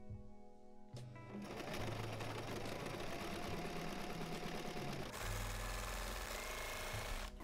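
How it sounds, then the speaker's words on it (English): A sewing machine hems the bottom of a plastic bag with bias tape, running as a fast, steady mechanical rattle for several seconds after a short start, close and loud with no talking. "I'm going to start by hemming the bottom with bias tape."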